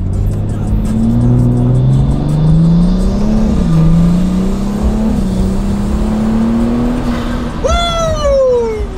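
A turbocharged car with a new turbo accelerates under partial throttle, its engine droning and rising steadily up close before a sharp high whine or squeal near the end.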